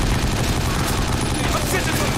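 Dense, continuous bursts of gunfire in the shooter game 50 Cent: Blood on the Sand, loud and unbroken, like rapid automatic fire filling the whole moment.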